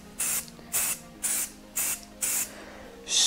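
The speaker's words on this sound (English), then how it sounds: "Nice and warm room temperature spray paint." A warm, room-temperature can of spray paint fires five short, even hissing bursts in a regular rhythm, each with strong pressure and a fine mist, then starts a sixth spray at the end, close up and with no voices.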